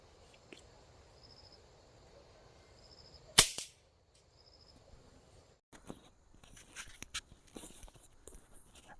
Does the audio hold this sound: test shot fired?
yes